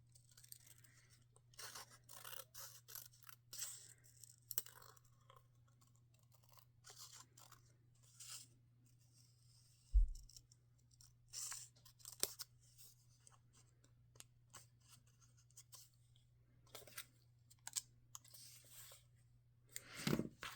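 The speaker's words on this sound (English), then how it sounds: "This just doesn't want to cut it. It's a very thin paper." Scissors snip and scrape through thin wallpaper sample paper for a fall folio craft, faint irregular clicks and rustles over a low steady hum, with one louder thump midway.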